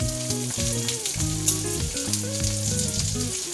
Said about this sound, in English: So now it's time to add the garlic. I'll sprinkle thinly sliced garlic.